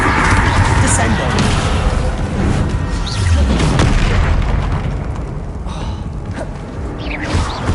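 Descendo slam spell impacts in Hogwarts Legacy, heavy booming crashes amid dense continuous game effects and music, loud and close throughout with a surge of impact near the middle.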